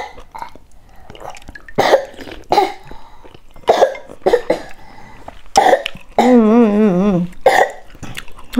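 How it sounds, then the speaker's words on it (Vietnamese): A small child eating chicken noodle soup with their mother coughs repeatedly in short, close bursts spread across the stretch, with one drawn-out wavering vocal sound in between. "Ho hoài rồi."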